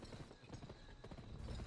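Horse hooves clip-clop in a steady riding rhythm in the western video game GUN, quiet and fairly close over a soft game background.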